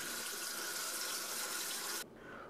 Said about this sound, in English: pour the chickpeas in the colander, and then use water to rinse them thoroughly.